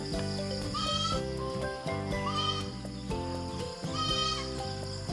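A goat on a farm bleats several times, loud and close, with insects buzzing in the background.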